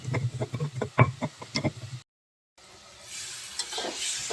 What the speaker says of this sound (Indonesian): bawang putih, tomatnya semuanya digoreng sama terasinya.